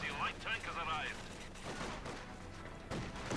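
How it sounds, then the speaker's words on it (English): Video-game gunfire as Grenadiers open fire on advancing squads, a burst of rifle shots mixed with game sounds and a faint background voice, fairly quiet and distant. "Grenadiers opening fire on the squads coming on in"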